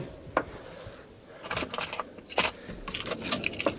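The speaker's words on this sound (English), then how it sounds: "So I'll just grab the keys and I'll show you the canopy." A set of keys jangles and clinks in short bursts close by, picked up and handled near a Ford Ranger Mk2 pickup with a canopy, with no talking.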